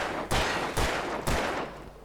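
Three sharp gunshots fire in quick succession in the video game Alan Wake Remastered, roughly half a second apart, each with a short rumbling tail, loud and close.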